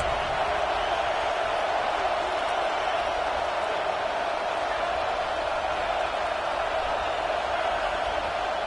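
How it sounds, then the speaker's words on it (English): The crowd at a football stadium during an Ohio State versus Michigan game roars in a dense, steady sustained cheer that never breaks, with faint commentary underneath. "this crowd coming to life here, trying to help the defense get a stop"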